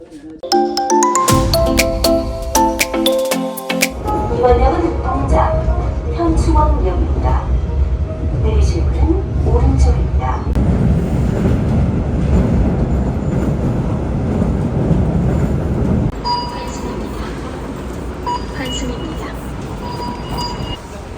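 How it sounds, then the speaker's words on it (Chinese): A subway train ride toward Heukseok station in Korea: a door chime rings at the start, then a loud, steady rumble and rattle of the moving carriage continues throughout, with people talking over it. "那让我们坐这个地铁到这个黑石站这边去看一下"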